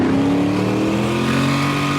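A 700hp turbocharged LS-swapped Foxbody Mustang accelerates hard on a road in Mexico, its engine note climbing steadily and loud, close and continuous for about two seconds with no talking.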